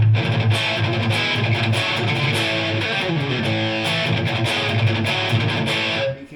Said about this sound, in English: You can get a really grungy tone out of one,